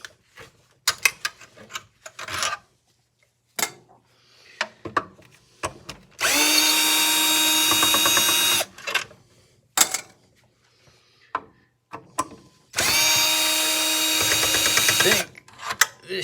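A power drill fitted with an extension backs screws out of an old miter saw being scrapped, with two loud, sustained whirring runs of about two seconds each, framed by close clanks, taps and handling clatter.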